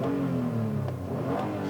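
The 3.5 liter V6 of a 2018 Toyota Highlander Limited hums steadily just after starting, a smooth and fairly quiet low drone with no talk over it.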